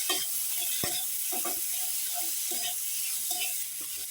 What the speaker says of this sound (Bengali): মানে টমেটোটা একটু ভাজা ভাজা করবো।